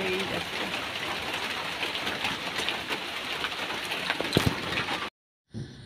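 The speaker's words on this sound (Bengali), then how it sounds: "বৃষ্টি তো ছাড়ছেই না, এত বৃষ্টি হচ্ছে কি আর বলবো তোমাদের" Heavy rain pouring down on a house, a dense steady hiss with scattered drips and knocks, cutting to near silence for a moment before resuming near the end.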